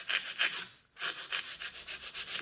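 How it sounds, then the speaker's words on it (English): A nail file rasps back and forth across a plastic nail tip in quick, even strokes, a close, crisp scratching rhythm with one brief pause before the strokes resume. "You always want to file the plastic tip instead of acrylic."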